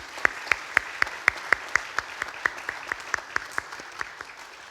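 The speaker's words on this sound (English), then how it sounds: "Can we please give them a round of applause?" An audience applauds library staff at a history center ribbon-cutting ceremony, a thin, sparse round of clapping with distinct, evenly spaced claps from a small crowd.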